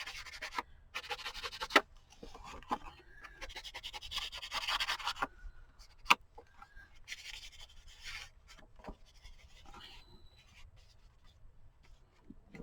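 Paper edges being rubbed with green ink in dry, scratchy bursts of dabbing and swiping, close and fairly quiet, with short pauses between strokes and a sharp tap near the middle.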